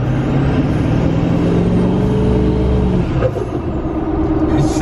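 Inside the cab of a Duramax diesel pickup fitted with a 68mm turbo, a loud, steady engine drone runs under rising and falling turbo whine, with no talk.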